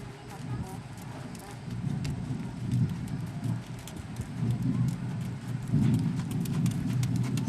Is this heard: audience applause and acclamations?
no